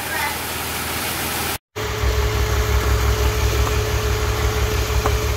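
A BMW car engine idling steadily just after starting, a continuous low rumble with a faint steady whine, close and fairly loud after a brief silence, with a moment of talk early on.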